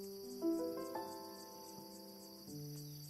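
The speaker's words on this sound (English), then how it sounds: "Maybe some summer cicadas?" Summer cicadas buzz as a thin, continuous high drone, used as a quiet ambient sound effect under faint sustained tonal music.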